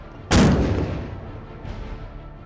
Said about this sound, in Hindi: धनुष नाम की तोप स्वदेशी है।